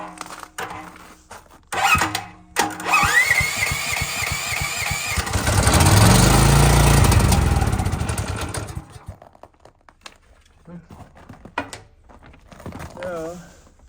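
A Champion portable generator engine is started in snowy cold conditions after some clicks and handling, then runs with a loud, rising and falling engine roar before settling down, with brief handling noises afterward.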